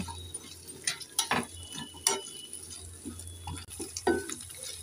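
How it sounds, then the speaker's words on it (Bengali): Cut potatoes frying with onion in a pan for a bean and potato curry, stirred with a spatula: a low continuous sizzle under irregular scraping clacks and scoops, close and moderately quiet, no speech. "এবার নেড়ে চেড়ে আলুটাকে একটু লাল করে আমি ভেজে নেব।"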